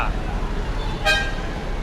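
Busy traffic on EDSA near a bus carousel station, with engine rumble throughout and one short, loud car horn toot near the middle, close by.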